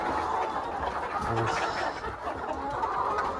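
Chickens and many roosters clucking steadily in a busy coop, several birds overlapping at close range with no pauses.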